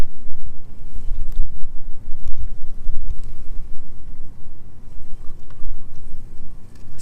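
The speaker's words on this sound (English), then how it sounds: "Boy, it's so windy down here today." Strong wind blows through a ravine and buffets the microphone, producing a loud, rumbling low roar that surges and eases in gusts throughout, with no voices.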